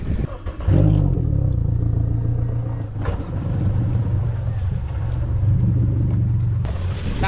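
A motorboat pushes through shallow coastal water in the Florida Keys, giving a close, continuous low engine rumble with a few clattering knocks over it.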